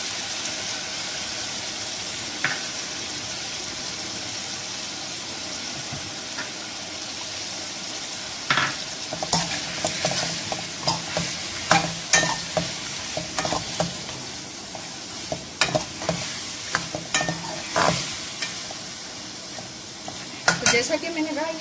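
Chicken frying in a pan with ginger and garlic added for shahi korma, a steady sizzle under repeated scraping stirs and clinks of a spoon against the pan, growing busier toward the end.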